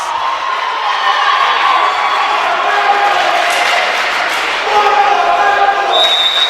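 A crowd in a gym at a college volleyball match between Eureka and Monmouth keeps up a dense, loud roar of cheering and shouting throughout, with steady talk over it.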